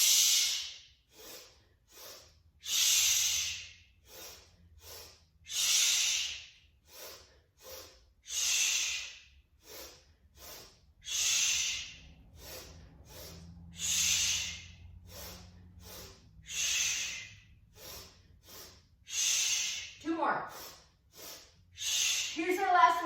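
A person breathes rhythmically during a yoga flow, doing two quick nasal sniffs in followed by a long forceful blow out through the mouth, repeated about ten times, close and loud, ending with a brief vocal sound.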